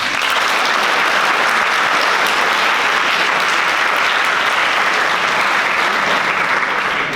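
Sustained audience applause at a Model United Nations closing ceremony, a dense, even wash of many hands clapping for the USSR delegate, loud and continuous throughout.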